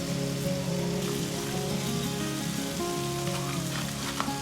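Spiced olives fry in a pan with a constant crackling sizzle like rain on a surface, close and steady, while a low hum runs underneath.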